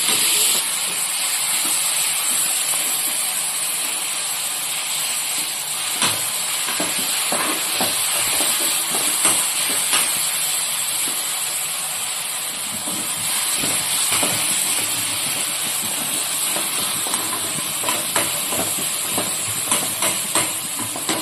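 Beef fries in a pan with garlic and ginger paste being stirred in, giving a steady loud sizzling hiss with scattered scraping and clinking from a spoon against the pan, and no voices.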